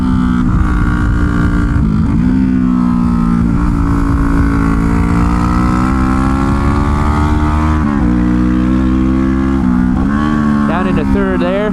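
Suzuki GSX 250R motorcycle engine droning steadily while riding, with pitch rising and falling through gear changes, heavy wind rush underneath and a rider talking over it.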